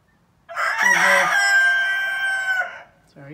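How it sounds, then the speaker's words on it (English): A rooster crows once, loud and close, a long strained call that rises and trails off, followed by a brief low cluck. "He's been getting picked on by Adam, the big rooster."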